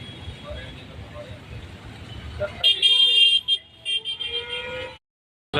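Busy roadside traffic along a food street in Hi-Tech City, Hyderabad: a steady vehicle rumble, then car horns tooting in bursts near the end, with people talking throughout.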